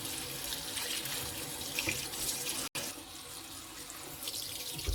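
Cold tap water runs steadily over fresh mint leaves being washed in a sink, a continuous close splashing hiss with no talk.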